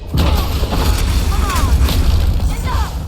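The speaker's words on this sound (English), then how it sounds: "It releases a 100-point fiery explosion centered around us" Sunflare, a fiery explosion spell in the video game Skyrim, bursts as a sustained roaring rumble with crackling pops, heavy low-end throughout, under and around a voiceover.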